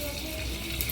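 Garlic tempering sizzles in hot oil for a cluster bean and potato curry, a brief, steady, close frying hiss that runs without a break.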